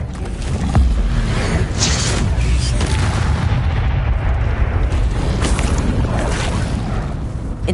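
A Confringo blasting spell going off in Hogwarts Legacy, a sustained roaring, rumbling explosion wash that stays loud and dense throughout, close and alone with no voices.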